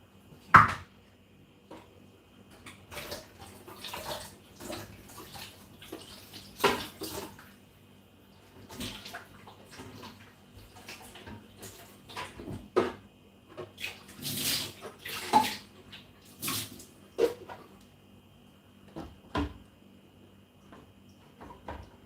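A watermelon is rinsed under running water with irregular splashes, knocks and bursts of flow spread over about twenty seconds, close and moderately loud.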